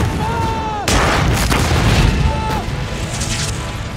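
Heavy tank cannon blasts boom loudly, overlapping with a continuous roar of battle noise, a rising whistle-like tone before the first and second shots.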